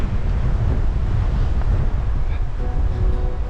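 A strong gale blowing on an exposed coastal walking track, loud continuous roaring wind buffeting the microphone with a deep rumble throughout and no letup.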